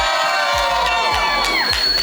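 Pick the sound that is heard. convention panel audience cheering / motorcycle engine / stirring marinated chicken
convention panel audience cheering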